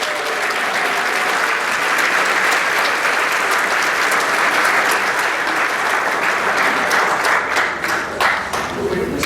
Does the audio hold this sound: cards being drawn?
no